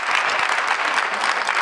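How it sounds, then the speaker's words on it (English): Lively clapping from an audience of students fills the room, a loud, close, continuous patter of many hands with no voices over it. "give yourself a round of applause"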